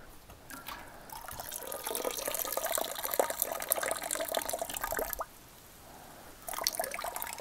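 Liquid drains and drips from a homebrew beer grain bag into a pot: a close, busy trickle and splatter that runs for several seconds, stops briefly, then resumes.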